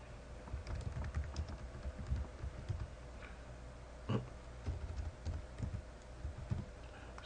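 Keyboard shortcuts typed on a computer keyboard while working in Photoshop: soft, scattered key clicks and taps at close range, quiet and irregular, with no talking.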